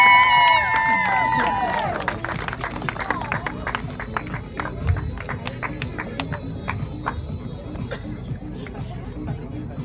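A crowd at a T-10 cricket championship prize presentation applauds and cheers, scattered distinct claps and background chatter following speech at the start, moderately close and continuing throughout.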